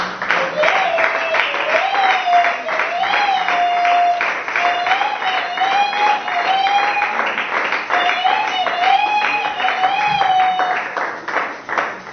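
A congregation in church keeps up sustained, steady applause while a sung or chanted voice carries over the top.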